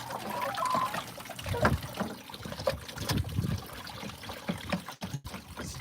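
Water trickles and splashes while a chicken feeder tray is rinsed outdoors in the heat, intermittent pouring and dribbling sounds with soft bumps and handling noise, fairly close.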